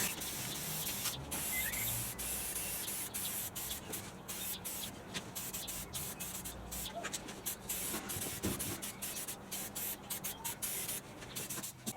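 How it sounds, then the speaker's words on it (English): Repeated short bursts from a new aerosol spray paint can hissing close by while painting a postie bike, quick on-off pulses with faint handling noise in between. "Alright, new tin. This one will spray better."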